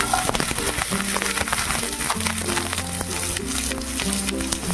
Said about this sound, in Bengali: নামমাত্র তেল এবার আমি পটলগুলোকে দিয়ে দেবো